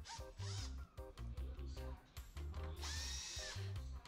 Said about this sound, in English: we're gonna go ahead and start by removing this panel to be able to check our compressor.